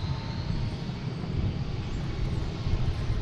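A JetBlue airliner arriving from Los Angeles roars at Boston Logan, a steady broadband jet rumble held at a constant level with no voices.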